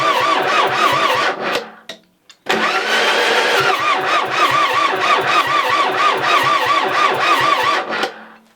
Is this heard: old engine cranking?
yes